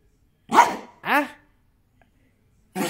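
Two sharp dog barks close by, a brief pause, then a third bark starting at the end; otherwise quiet.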